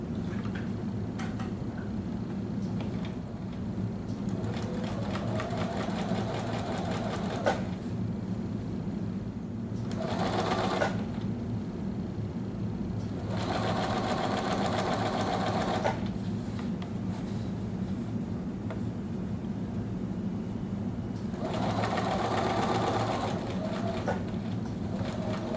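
Steady hum and rapid stitching of a sewing machine running in several bursts with short pauses, attaching a double row of bias tape trim around a curved hood edge.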